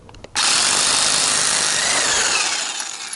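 A power tool, likely an impact wrench, loosens the rear sprocket nut on a Kawasaki ZX14R motorcycle, starting abruptly after a few faint clicks and holding a loud, steady, close whir that tapers slightly toward the end.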